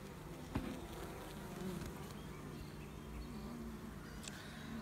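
Honey bees buzz around comb in an apiary, a soft continuous droning hum of many insects close by, with no talking.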